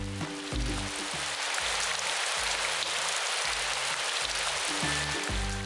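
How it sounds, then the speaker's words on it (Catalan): Steady rainfall with a dense, even hiss of drops that holds constant from start to finish, set under soft, rhythmic low musical notes. "Més tard va començar a ploure."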